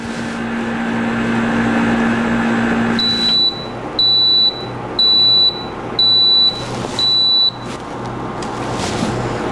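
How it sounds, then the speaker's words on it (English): An indicator's alarm buzzer beeps in a rapid series of five short, loud, high-pitched pulses over steady background hum, with no talking, during cold weather testing of a loop-powered explosion-proof indicator. "The alarms occurred immediately."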